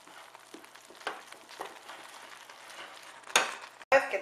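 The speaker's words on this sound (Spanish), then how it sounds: "Vamos a tamizar la harina y la vamos a echar y la vamos a ir removiendo" Sifted flour being stirred little by little into melted butter in a pot over low heat for choux pastry: soft, quiet scraping strokes in an irregular rhythm, ending with a couple of louder knocks of the utensil.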